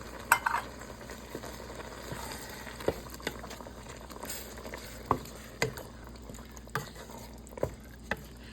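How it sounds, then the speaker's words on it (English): Stirring red lentil jambalaya with diced tomatoes, tomato sauce and Rotel in a pot, a low steady simmer broken by scattered spoon scrapes and light clinks, close and fairly quiet, without speech. "Okay, let's get this stirred up."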